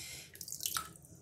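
Water splashes and trickles off a muddy dog during a bath, a brief close burst of running, dripping water with no talk.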